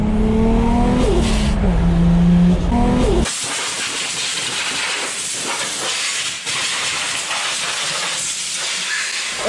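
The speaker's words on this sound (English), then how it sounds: "That is all the fire extinguisher dust getting blown out." Fire extinguisher dust blasts out of a fire-damaged Nissan 350Z as a loud, rushing hiss of air that follows a changing, pitched engine whine and keeps going steadily for several seconds.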